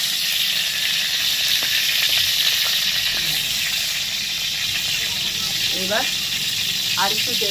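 Pointed gourd frying in oil next to potatoes in a pan gives a steady, close sizzle with a broad hiss that holds level from start to finish.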